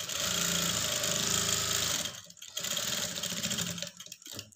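A sewing machine stitches a lined blouse with short stitches, running in a fast, steady whir at close range and pausing briefly twice before continuing.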